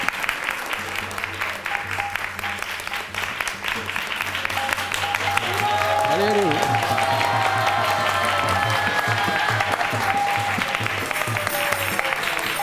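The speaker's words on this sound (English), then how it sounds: "Applaud." An audience applauds during a temple gathering, a steady wash of clapping with some crowd murmur and a low hum underneath, while a voice speaks briefly partway through.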